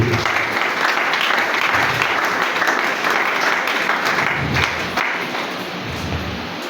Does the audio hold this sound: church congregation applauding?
yes